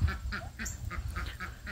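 Backyard turkeys calling in a rapid run of short, evenly spaced nasal notes, about six or seven in quick succession, moderately close with no talk.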